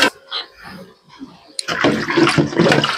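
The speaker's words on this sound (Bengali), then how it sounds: "এই যে আমি রান্না করতে করতে কিছু বাসন ধুয়ে নিই, ফেলে রাখি না।" Dishes and a small basin are washed with water in a kitchen without a tap, first faint splashes and clinks, then a loud, close burst of sloshing and pouring water.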